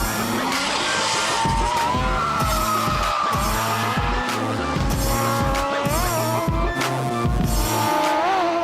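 A race car with a six-injector engine skids repeatedly, tires squealing in long wavering bursts over a loud, pulsing engine roar that rises and falls as it slides, close and intense with no talking.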